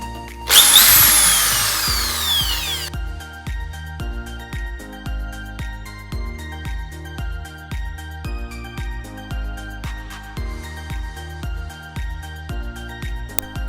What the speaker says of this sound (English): Now let's start drilling